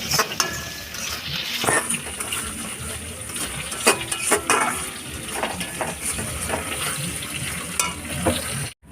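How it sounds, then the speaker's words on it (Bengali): Ground spices (turmeric, chili powder and salt) frying and being stirred in a pan for Bengali chicken curry, a steady close sizzle broken by scraping stir strokes and occasional clinks of utensil on pot. "মশলা কষানো হয়ে গেছে"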